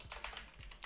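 Soft typing on a computer keyboard, a handful of quick, light key clicks in close succession, quiet and alone without any talk.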